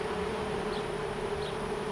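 Honey bees buzzing steadily around an exposed hive outdoors, a continuous dense drone at moderate level with no pauses, fairly close.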